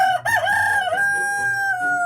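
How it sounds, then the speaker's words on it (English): A rooster crows once, a long loud cock-a-doodle-doo that rises and then holds a sustained, slightly wavering note, heard up close and alone. "Oh, and there's the rooster too, Mr. Cock-a-doodle."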